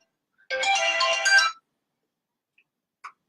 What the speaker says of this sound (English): I'm getting a phone call on my other live